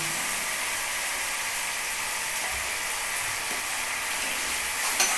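Papaya tossed with turmeric fries in oil for a moong dal dish, giving a steady, close, broadband sizzle throughout, with a faint utensil knock near the end and no talk.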